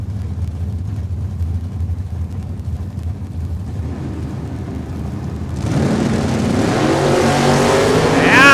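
Drag race cars, including a 1968 Mustang, launching off the starting line at Saskatchewan International Raceway in Saskatoon: a low engine rumble builds into a loud rising roar of revving and accelerating.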